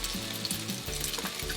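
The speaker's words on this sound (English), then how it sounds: "So we'll let it boil in there." A pot of water comes to a boil for Vietnamese rice noodles from a meal kit. A soft, steady bubbling hiss carries faint irregular pops, with no voices.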